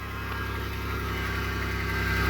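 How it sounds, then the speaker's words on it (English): A car fitted with a new catalytic converter and a tampered exhaust idles close by, giving a steady throbbing low drone with a faint pulsing rhythm and no talk over it. "Sound like some type of exhaust."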